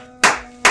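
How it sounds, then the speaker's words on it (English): Two sharp, loud hand claps ring out close by, about half a second apart, each a crisp burst on its own with no talk. "Why is your clap so sound barrier breaking?"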